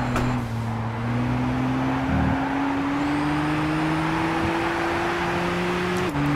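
Race car engine in the video game Gran Turismo 6, a steady sustained drone that climbs slowly in pitch through the gears, loud and close, with a brief shift or bump midway and no talk.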